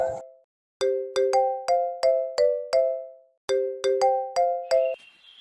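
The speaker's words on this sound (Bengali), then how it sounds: "ভাই আপনার ফোন বাজতেছে" A mobile phone ringtone plays a bright chiming melody of repeated descending tones in two phrases, clear and fairly close, with a brief pause between phrases.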